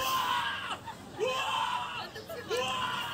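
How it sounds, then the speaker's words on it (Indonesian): A man screams loudly at the Jakarta Fair to win coffee, with rising yelled bursts repeated three times over a noisy crowd background. "mau lihat denger ya gimana teriakannya"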